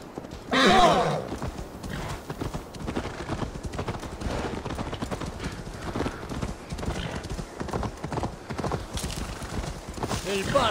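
A horse gallops in Assassin's Creed Valhalla, with steady rhythmic hoofbeats running for several seconds, a whinny near the start, and someone speaking over the hooves.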